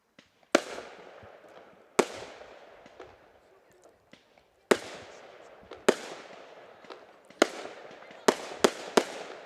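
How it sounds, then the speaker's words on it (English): A large fireworks display goes off behind a women's football pitch during a match, with sharp loud bangs in irregular succession, each trailing into crackling decay, some bursts coming in quick clusters. "Large fireworks demonstration going on behind us here"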